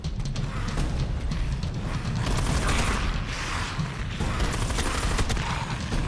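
Submachine gun fire in the video game Hounds The Last Hope, a continuous rapid-fire stream of close, loud shots with mechanical rattling running almost without pause.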